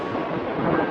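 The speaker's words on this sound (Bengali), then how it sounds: "আকাশে মেঘের গর্জন শুনে মনে হচ্ছে যে কোনো সময় বৃষ্টি নামতে পারে।" Thunder rumbles across the sky on a stormy night, a short, steady, muffled roll of low noise with no voices.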